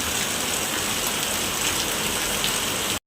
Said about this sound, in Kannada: ಸ್ವಲ್ಪ ಸಾರಿ ಜೋರು ಮಳೆ ಬಂದಿದೆ ಸಾಕಾಯಿತು